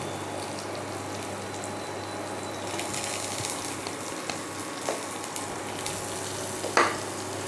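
Asafoetida frying in hot oil for a Bengali bottle gourd and moong dal: a steady, close sizzle runs throughout, broken by a few soft clicks and a sharper pop near the end.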